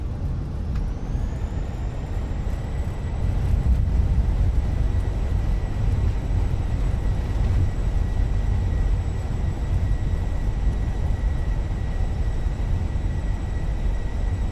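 Thrust reversers roar on an Airbus A320 with CFM engines just after touchdown in a flight sim: a high engine whine, then a broad, loud rumble that swells and holds steady.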